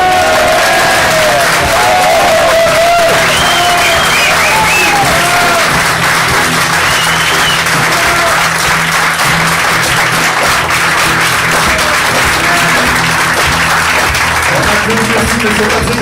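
An audience applauds a guitarist at a live comedy stage show, sustained dense clapping with some cheering that holds steady and loud throughout, while a voice occasionally rises over the crowd.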